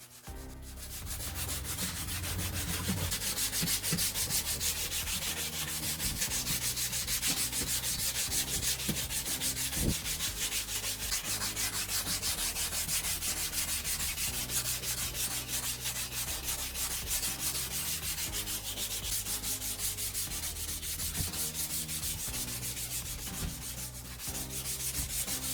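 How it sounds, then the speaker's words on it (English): Continuous wet sanding strokes with 1000 grit sandpaper on a car headlight, a steady hissing rasp of abrasive rubbing a hard surface, loud and close, unbroken for the whole stretch with no voices. "Take a piece of 1000 grit sandpaper, wet it with water, then begin sanding the surface gently."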